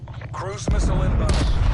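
Cruise missile strike in a Call of Duty match lands as a sudden heavy boom, followed by a sustained loud rumbling roar over game sounds, with a voice talking before the impact.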